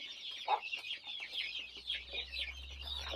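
Chickens and young chicks on a poultry farm, clucking and cheeping continuously through a steady low hum, with one louder cluck early on and no talking.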